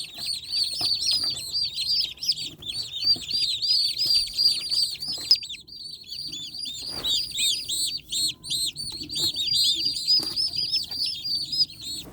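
Dense high-pitched peeping and chirping from a group of turkey poults, continuous and overlapping, close by with no talking.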